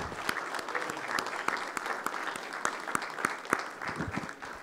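A church congregation applauds with dense, sustained clapping that stays even and fairly loud throughout, with a slight murmur of voices mixed in.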